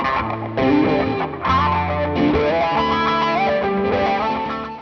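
Electric guitar run through a wah-wah effect with distortion, sustained melodic notes sweeping in tone, played continuously and up close with no voices.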